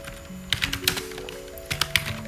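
Arduino code being entered on a computer keyboard: quick bursts of close, crisp key taps in short irregular runs, with a faint steady tonal hum in the background.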